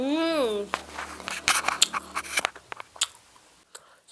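Homemade Kimetsu no Yaiba crackers are bitten and chewed close up, giving crisp crunches in an uneven rhythm that follow a brief vocal hum and soften into quieter chewing.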